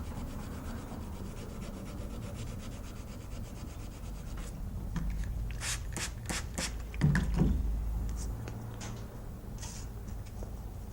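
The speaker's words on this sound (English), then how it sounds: "I'm pushing against my plunge line, making sure I'm getting that nice and sanded" A knife blade is hand sanded with sandpaper strips, pushed back and forth in a steady rasping rub that quickens into sharper rapid strokes midway. The sound is close and continuous with no talk.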